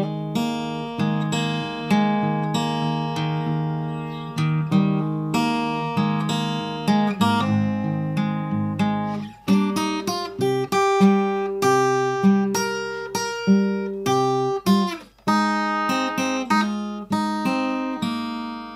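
Acoustic guitar plays the intro riff of a song, a steady picked melody with ringing notes and hammer-ons, close and clear with no voices.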